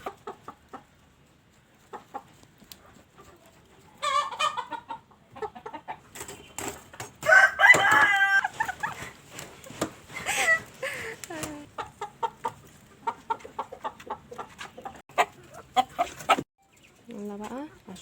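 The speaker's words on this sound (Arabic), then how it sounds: "ودي الديوك الجميلة دي" Roosters cluck and call repeatedly at close range in a home garden, with a crow rising among the bursts and a few quiet spoken words near the end.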